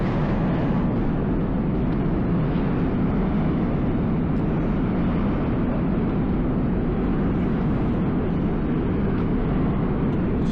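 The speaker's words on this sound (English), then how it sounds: "there's a train going over the Manhattan Bridge right now" A subway train rumbling across the Manhattan Bridge during a snowy winter walk, a continuous loud, broad roar that holds steady throughout with no voices.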